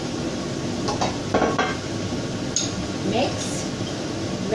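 Cornstarch and water being stirred into a beancurd dish with vegetables: steady scraping and clinking of a utensil against a pan, with a faint sizzle beneath and a voice talking over it.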